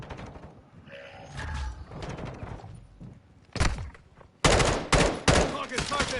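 Gunfire in a Call of Duty Modern Warfare 2 multiplayer match, with scattered shots at first, then loud bursts of rapid automatic fire up close, over faint game sounds.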